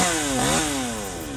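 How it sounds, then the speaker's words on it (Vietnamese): A chainsaw cuts into a large xà cừ tree beside a road, its loud engine whining steadily, dipping and rising in pitch under load, with no talk. "Qua leo cưa cây xà cừ."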